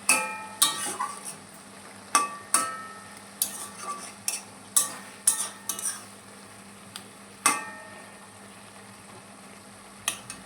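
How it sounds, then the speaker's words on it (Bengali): Prawns stir through a bottle gourd curry in a pan, with a series of sharp spoon-on-pan scrapes and knocks over a soft, low simmer. "এই দেখো মাছগুলো আমি এবার দিয়ে দিয়েছি এবার একটু নাড়াচাড়া করবো"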